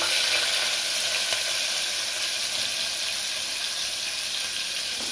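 Onions frying in oil in a pan, a steady broadband sizzle that holds level and fairly close for the whole stretch, with no voices over it.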